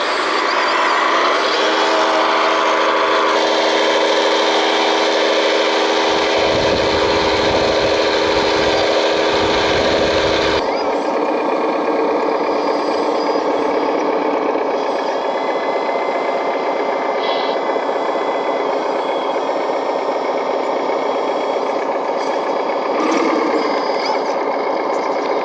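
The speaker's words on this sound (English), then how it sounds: "we'll drive the loader back because we'll have to pick up any extra that we don't need" A loader at an asphalt repair site drives back with a loud, steady engine drone and harsh rattling, the tone shifting partway through as the machine keeps rolling, with faint beeping mixed in.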